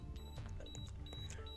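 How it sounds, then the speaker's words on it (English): A battery charger hooked to an e-bike pack emits repeated high electronic beeps over a low hum, faint and intermittent, with no voices. "so sorry about the beeping, but that's going to do that until it's 66 volts."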